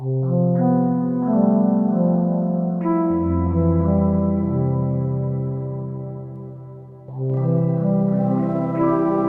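A clean, dry synthesizer, OP-1 Field through a Dreadbox RainDrops with effects off, plays sustained held notes with rich harmonics, changing pitch a few times, steady and loud.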